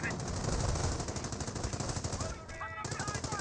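Rapid bursts of .30 cal machine gun fire in the Company of Heroes strategy game, dense rattling volleys close and loud, easing briefly near the end as other game effects chime faintly.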